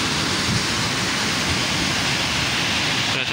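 The Lasifashaj waterfall in Tierra del Fuego, Argentina, pours in a loud, constant rush of broadband water noise that stays close and steady without pause, with no voices heard.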